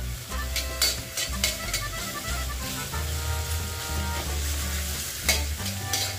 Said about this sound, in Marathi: फोडणीला मी जिरं मोहरी घातलेली आहे, हिरवी मिरची आणि थोडंसं टोमॅटो घातलेलं आहे